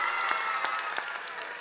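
An audience at a stage performance event applauds as a gift is presented, a steady wash of many hands clapping at moderate level that stays fairly even before easing slightly toward the end.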